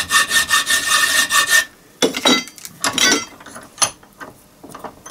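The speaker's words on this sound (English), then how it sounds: "we just carry on filing these down just to get the shape." Hand file working small metal parts for a scratch-built Gauge 1 live steam model clamped in a vise, heard as close, rhythmic rasping strokes with short pauses between bursts.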